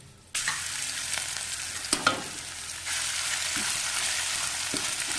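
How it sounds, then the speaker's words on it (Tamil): Ginger garlic paste hits hot oil with a loud, steady sizzle, with a few scraping stirs partway through, continuing close and unbroken to the end. "இப்போ இது கூட இஞ்சி பூண்டு பேஸ்ட் ஆட் பண்ணிக்கலாம்."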